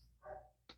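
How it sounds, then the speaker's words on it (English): A single muffled dog bark from a distance, followed by a short sharp click. "y'all can probably hear the dogs barking."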